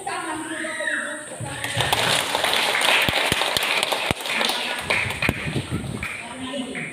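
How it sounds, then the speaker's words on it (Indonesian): A church congregation at a worship service in Sumba breaks into applause, a dense burst of many hands clapping together that swells after a short spoken lead-in and continues for several seconds with sharp individual claps standing out. "kita tepuk tangan dulu Bapak Ibu"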